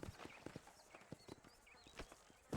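Hooves of a horse ridden across open ground in the video game Red Dead Redemption beat a steady clip-clop, regular rhythmic thuds near and moderately loud, with faint bird chirps above and no talk.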